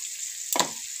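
Green chili paste dropped into a hot pan with oil while cooking shim aloo chorchori, a brief sharp sizzle burst over a faint steady hiss of frying.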